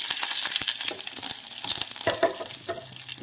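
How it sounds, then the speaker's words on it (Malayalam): Curry leaves and dried chillies sizzle and spit in hot oil while being stirred, a steady crackling fry with sharp pops and scraping stirs throughout. "അതിലേക്ക് കറുവേപ്പിലയാണ് ഇട്ട് കൊടുക്കുന്നത്."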